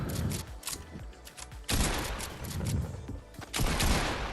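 Gunfire in Fortnite on PS5, bursts of rapid shots in dense volleys with short gaps between them, loud and close.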